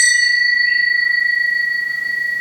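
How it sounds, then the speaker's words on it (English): A single small bell or chime is struck softly and left to ring, its bright sustained tones slowly decaying with a gentle shimmer, heard alone and close up. "Or these chimes"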